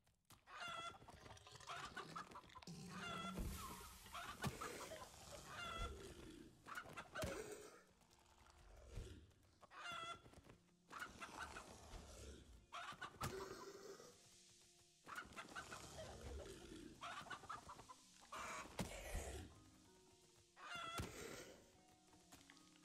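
Chicken clucking and squawking in the Dark and Darker video game, a busy run of repeated clucks and short cackles close by, with bursts and pauses over about twenty seconds and no talk.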